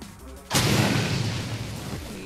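A force grenade detonating in the game Shadowrun Returns, a single sudden loud blast after a quieter moment, trailing into a rumbling decay.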